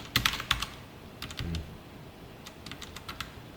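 Scattered keystrokes on a computer keyboard, a few sharp clicks early then sparser light taps, fairly quiet against a low background hiss.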